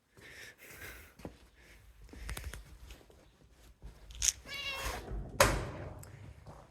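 A house cat meows a few times at close range, with soft thumps and rustling around it and brief quiet human sounds between the calls.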